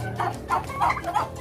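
Turkeys and chickens kept together in a poultry pen, with a run of gobbling and fowl calls in several close, fairly loud bursts, no talking.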